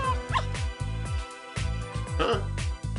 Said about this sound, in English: Saki's face turns pale when she hears the puppy scream